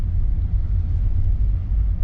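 A car rolls slowly past on a narrow mountain road in the Great Smoky Mountains, a low, steady rumble close by, with no one speaking.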